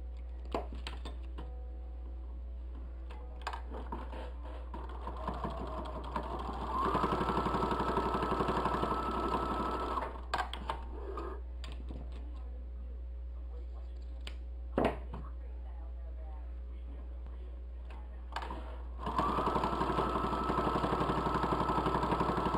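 A home sewing machine stitches a fabric bowl cosy in two short runs of motor hum, set between stretches of a person talking over a low steady background drone.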